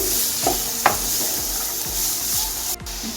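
Carrots and peas sizzle steadily in a hot pan, with a few sharp scraping stirs of a spatula cutting through the constant crackle, close and alone.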